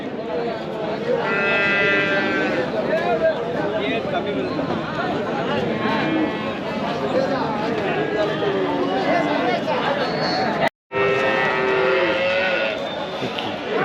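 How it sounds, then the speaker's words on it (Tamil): Breeding bulls and other cattle at the Kundarapalli cattle market in Krishnagiri, with loud, drawn-out moos rising near the start and again toward the end, under continuous talk and crowd noise. "இதெல்லாம் வந்து பண்ணி ப்ரீடுக்காக யூஸ் பண்ணுற காளைகள்"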